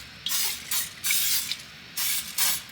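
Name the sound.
cooking spray sprayed onto a waffle iron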